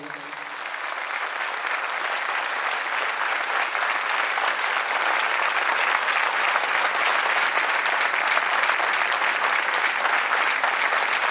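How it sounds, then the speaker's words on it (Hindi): Steady, dense applause from an audience at a business talk, a thick continuous wash of many hands clapping that holds at an even, fairly loud level throughout without voices. "तो फिर से एक बार जोरदार तालियां बजाइए"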